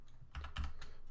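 Code is typed on a computer keyboard: a short run of three or four distinct key clicks, fairly quiet and close, with no talking.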